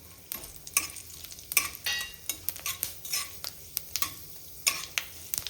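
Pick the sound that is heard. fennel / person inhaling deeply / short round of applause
fennel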